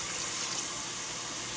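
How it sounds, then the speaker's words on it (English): Several cans of water pour into a cooking pot in a home kitchen, a steady close splashing rush that continues unbroken, with no talking. "So put in 4 cans of water."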